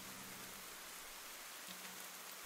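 Steady, even hiss of rain falling in the video game Ender Lilies, a soft constant wash with no talk over it and a faint low hum underneath.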